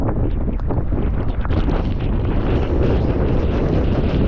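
Strong wind roars and buffets loudly against the microphone, a constant heavy rush with no letup.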